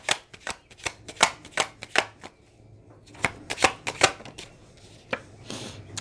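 Tarot cards shuffled by hand before a card is pulled, producing bursts of crisp riffling clicks and slaps in quick irregular clusters, close and fairly quiet with brief pauses between shuffles.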